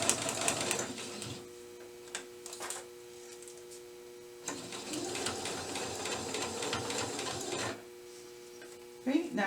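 A sewing machine stitches fabric for a paper-pieced quilt block in two steady runs of rapid needle clatter, close and moderately loud, with quiet gaps between runs where someone speaks.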